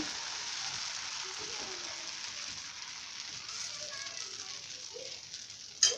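Dosa batter sizzles faintly on a hot griddle, a soft, even hiss held steady for several seconds with a brief sharper clatter at the very end.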